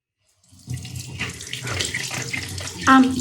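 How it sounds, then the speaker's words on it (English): Hot water gushes from a tap into a sink, a steady broadband splashing stream that starts after a brief silence and continues close and loud, with a short voiced sound near the end. "I got the water so hot."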